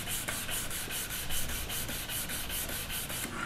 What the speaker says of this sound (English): So if you want it to look flawless, you gotta spend a bit more time sanding.